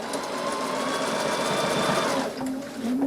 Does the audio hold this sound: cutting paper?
no